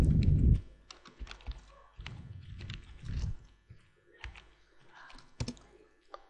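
Irregular, close clacking of keys as someone types on a computer keyboard while entering data in an Excel spreadsheet, with uneven bursts and pauses and a few heavier thumps, with no talking.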